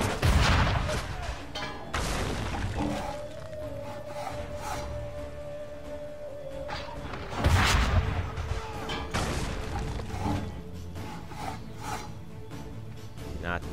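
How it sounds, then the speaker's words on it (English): Cannon fire in the Assassin's Creed III game striking soldiers and horses, with loud booming blasts near the start and again midway, plus scattered crackling gunfire and rumbling battle noise between them. "when the guys and the horses get hit by a cannon, they just stop and collapse"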